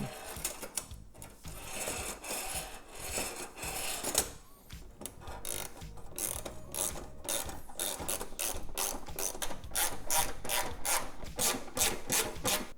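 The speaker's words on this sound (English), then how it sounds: "we want to test the sliding mechanism to make sure everything is aligned correctly" Science of Speed Stealth sliding licence plate bracket on an Acura NSX being worked back and forth: scraping, rasping slides that turn into a fast, regular run of close mechanical clicks, with no speech.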